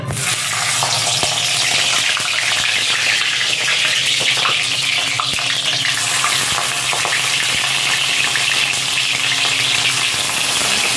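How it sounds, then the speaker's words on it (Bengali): Cauliflower paturi wrapped in bottle gourd leaves frying in hot oil in a hill village kitchen, a loud dense crackling sizzle that holds steady and close throughout with no talking. "তেল গরম হয়ে গেছে আমি একটু একটু করে সবগুলো পাতুরি ভেজে নেব"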